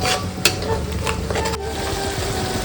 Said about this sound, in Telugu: ఒక పక్కన ఇలా మనము ప్రాన్స్ ఫ్రై చేసుకుంటున్నాం కదా